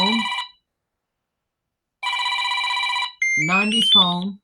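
Samsung '80s Phone' retro ringtone sounds as two loud, close electronic telephone-bell bursts separated by a pause, followed by a voice speaking briefly.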